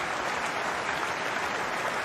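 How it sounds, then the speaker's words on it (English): A burst of crowd applause plays as a sound effect during a live stream of Amstrad CPC games, a dense, steady clapping that runs at an even, fairly loud level for about two seconds. "Have a round of applause there."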